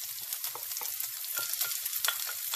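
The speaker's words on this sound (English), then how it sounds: "Just give it a little stir here. Just saute a little bit" Peppers, basil and green onion sautéing in a pan, a steady bright sizzle with soft clicks of stirring spread through, close and moderately loud.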